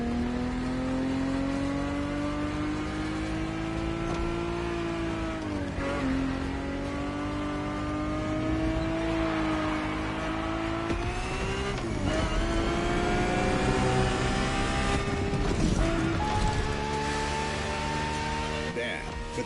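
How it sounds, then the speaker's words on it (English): Ferrari FXXK race car in The Crew Motorfest video game, its engine howling as it drives, pitch climbing and falling through gear changes and revs, loud and continuous throughout. "For this second lap, you'll be driving the FXXK."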